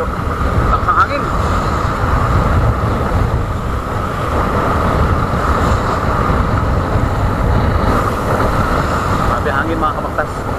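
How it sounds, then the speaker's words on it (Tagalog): Strong wind at sea on a small boat in big waves, a steady, loud roar of wind buffeting the microphone over rumbling water and engine noise, continuous without letup, with voices faintly mixed in. "Grabe hangin mga kabaktas. Palakas na siya ng palakas."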